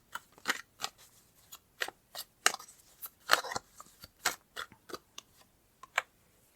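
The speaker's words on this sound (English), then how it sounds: "So let's pull a card to go with that." Crisp tarot cards are drawn and shuffled from a deck, making a quick series of sharp, close papery flicks and snaps in an irregular rhythm against a quiet background.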